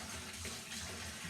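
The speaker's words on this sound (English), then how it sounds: "I'm just running the hot water tap because I like to put hot water in the kettle" A hot water tap runs steadily into a kitchen sink, a soft continuous hiss and splash at low level, with no other sounds.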